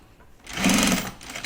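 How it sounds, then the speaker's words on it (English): A home sewing machine stitches binding onto a fabric project bag in one brief, close burst of rapid whirring between quieter moments. "You may need to stitch some of these spots with your hand wheel,"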